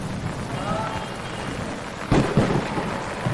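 Steady rain pours in a thunderstorm, a continuous dense hiss close by, with a sudden louder burst of thunder rumble midway; a faint voice may sit under the noise.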